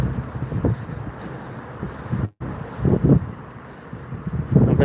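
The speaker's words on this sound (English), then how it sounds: "I'm hoping the castle's blocked the wind." Wind buffeting a microphone outdoors beside a castle in Belfast, a steady low rumbling roar with gusty swells and a brief dropout midway, heard alone without talk.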